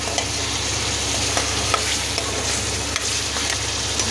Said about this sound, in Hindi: जब तक ये फ्राई हो रहा है चिकन।